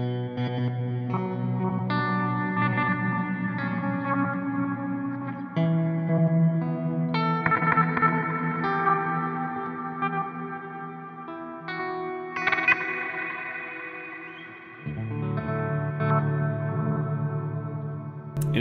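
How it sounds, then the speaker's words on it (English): Guitar notes and chords ring out through a Meris LVX pedal, bathed in lush reverb and chorus shimmer, with sustained washing tails between changes. "And let's just put some reverb on."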